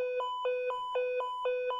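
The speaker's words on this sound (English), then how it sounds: "you can hear the alarm going off." Beeping from an Arduino-built photo interrupter window or door alarm: a steady run of six short, evenly spaced electronic tones, clear and close with no talking.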